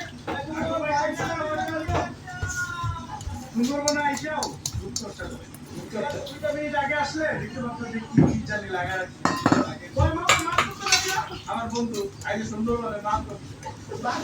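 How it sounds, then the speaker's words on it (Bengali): A lid is set over a vessel of freshly poured pudding, giving a few brief clinks and knocks of dishware. A person talks almost continuously over the clatter. "ঢেকে দিলাম, ঢাকা দিয়ে আটকে দিলাম।"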